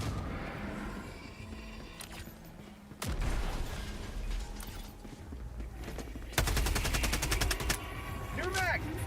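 Gunfire and mechanical clatter in a Helldivers-style sci-fi shooter game, dense bursts of shots with clicks and clanks of a magazine swap, loud and continuous.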